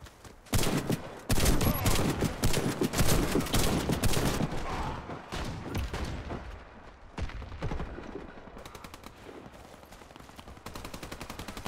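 Video game gunfire from a first-person shooter: dense bursts of automatic fire and rapid shots, loud and close, crackling in clusters with brief gaps and no talking.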